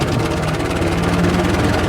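The engine of a 1917 International Motor Truck Model F runs loud and close with a steady, rapid low pulsing throb, with no talk over it.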